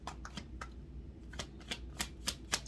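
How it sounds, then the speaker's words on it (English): Tarot cards being shuffled, quiet papery riffles and sharp card taps in an irregular rhythm, close to the microphone over a soft steady background hum. "Let me turn my camera so you can see a little bit of the shuffling going on."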